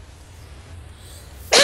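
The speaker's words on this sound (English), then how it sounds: "did we both sneeze at the same time?" A single short, sharp sneeze bursts out at the very end after near silence, during Minecraft Hunger Games play.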